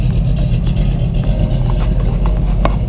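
A Ford Mustang Fox body's modified engine, running bigger injectors and needing a tune, idles loudly up close, its rumble uneven and lumpy, loping and stuttering rather than running smooth.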